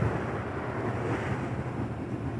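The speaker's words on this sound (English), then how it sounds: "Hopefully, you can hear me over this wind." Strong coastal wind buffets the microphone at a WWII bunker on the Isle of Wight, a loud continuous low roar with no break and no voices.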